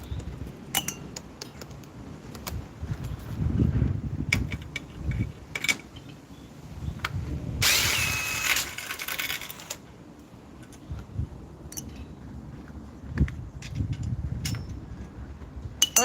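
Small metal bolts and screws clink and rattle sporadically as a microwave magnetron is taken off, with scattered metallic taps and a burst of scraping midway.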